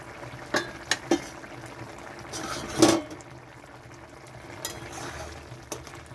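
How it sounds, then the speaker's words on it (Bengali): Prawn and brinjal curry gravy bubbling in a pan on the stove, a soft steady simmer broken by a few sharp clinks of utensils against metal and one louder scrape. "ঝোলটা খুব ভালো মতো ফুটে গেছে"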